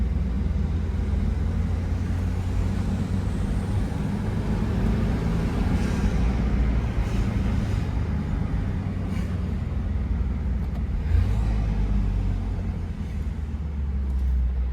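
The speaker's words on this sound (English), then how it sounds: "I need motor mounts. My car's shaking." Car engine with a stage 1 tune and a VRSF intercooler running steadily, a constant deep rumble with the body shaking on worn motor mounts, heard alone without talk.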